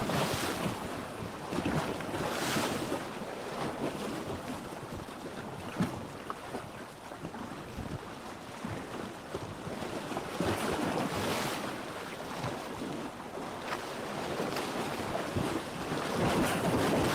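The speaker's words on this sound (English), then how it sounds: "Look at the waves of the ocean, Theseus." Calm, gentle ocean waves wash steadily at the shore, with wind buffeting the microphone and a continuous broadband surf roar that swells slightly at times; no voices.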